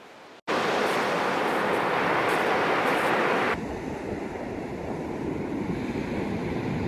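Atlantic Ocean waves breaking on a beach at Mar del Plata, a loud broadband roar of surf with wind buffeting the microphone, starting abruptly then settling into a steadier, slightly softer wash.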